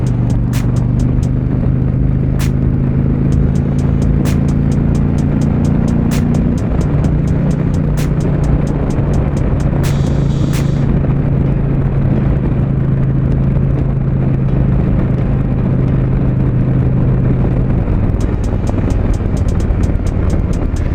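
A 2020 Indian Challenger motorcycle accelerates on a freeway, its engine a loud, steady drone with shifting pitch as it pulls, mixed with continuous wind and road rumble throughout.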